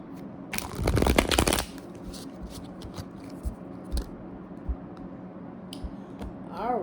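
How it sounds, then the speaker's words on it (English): Tarot cards are riffled and shuffled by hand in a short, dense burst of papery flutter and slaps, then softer scattered taps and clicks as the deck is handled. "Let me shuffle this up a little bit more."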